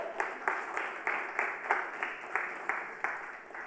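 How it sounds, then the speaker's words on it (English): An audience applauds at the launch event for the 2018 Volvo XC60 SUV. The clapping is steady and somewhat rhythmic, heard fairly faint and at a distance, with no one talking. "thank you for the applause"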